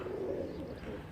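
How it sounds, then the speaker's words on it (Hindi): Pigeon cooing softly at a rooftop loft, a low faint burbling coo heard alone and fairly close. "अगला ऊपर से कबूतर आता है"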